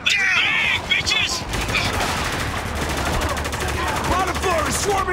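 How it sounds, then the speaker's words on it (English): Heavy gunfire in the war game Spec Ops: The Line, dense continuous rifle and machine-gun bursts with echoing shots throughout, loud and close. "We're taking some heavy fire here!"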